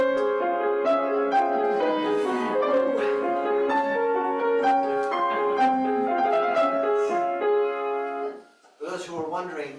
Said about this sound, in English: I'm going to play a Mozart in the style of Igor Stravinsky.